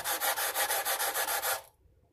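A sanding block rasps back and forth over mandolin metal frets, leveling them in quick, even strokes, about a dozen rhythmic passes close up, then stops abruptly into quiet.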